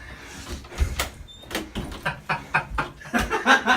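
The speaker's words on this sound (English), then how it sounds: "I love hearing the door open and hearing." A door opening in a blooper setting, with a series of thuds and creaks in uneven rhythm, fairly close and moderately loud, with no talking.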